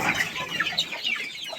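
Free-range chickens peck and fight at close range in a short burst of brisk, overlapping clucks and squawks.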